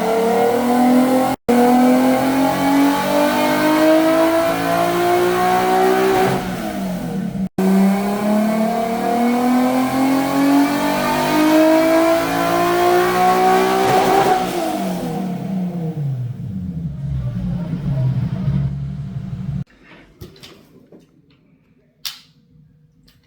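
A Toyota GR86 with a 6-speed gearbox, running on E85, revs hard on a dyno. Two rising engine pulls climb in pitch through the gears, then the engine winds down to a quieter idle with a few blips.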